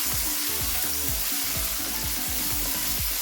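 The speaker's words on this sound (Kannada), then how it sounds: "ಕ್ಯಾಪ್ಸಿಕಮ್ನ ಹಾಕೋತಾ ಇದ್ದೀನಿ ಈಗ ಲೈಟಾಗಿ ಫ್ರೈ ಮಾಡ್ಕೋಬೇಕು" Capsicum frying lightly in a pan on a low flame makes a steady soft hiss of sizzling oil, accompanied throughout by a repeating low, rhythmic tonal thumping. No voices are heard.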